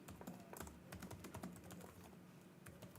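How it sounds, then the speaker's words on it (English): Fingers tap quickly on a computer keyboard with a microphone positioned right above it, producing a dense, steady patter of close keystrokes with no talking. "It's remarkably difficult to type when you've got a microphone right over your keyboard."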